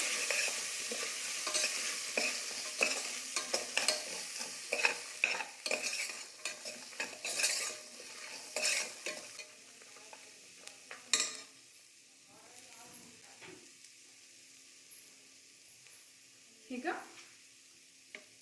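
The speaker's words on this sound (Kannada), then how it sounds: "ರುಚಿಗೆ ಎಷ್ಟು ಬೇಕೋ ಅಷ್ಟು ಉಪ್ಪು ಇದಿಷ್ಟು ಹಾಕಿ ಮಿಕ್ಸ್ ಮಾಡ್ಕೊಂಬಿಡೋಣ" Salt is stirred into avarekai (hyacinth bean) and fenugreek leaf sambar with a spoon, giving repeated close scraping and clinking strokes over a steady sizzle, busy at first and thinning out toward the end.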